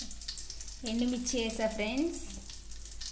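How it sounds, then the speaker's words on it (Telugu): Dried red chillies sizzle in hot tempering oil for gongura chutney. A soft, steady frying hiss runs throughout, and a voice speaks briefly over the middle. "గోంగూర పచ్చడి అయితే తాలింపు వేస్తున్నా ఫ్రెండ్స్"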